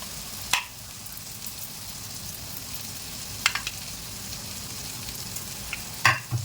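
Butter goes into a spoonful of hot oil in a pan for butter chicken, a steady close sizzle with three brief louder bursts of stirring or spattering and no talk.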